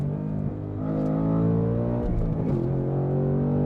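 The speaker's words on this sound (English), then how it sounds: "You got that rumble of that V8." Ford Mustang Dark Horse V8 in a 2024 model, its deep harmonic rumble heard up close as a steady burble that swells slightly while idling or cruising.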